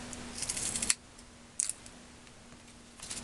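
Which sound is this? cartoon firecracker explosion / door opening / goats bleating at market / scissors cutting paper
scissors cutting paper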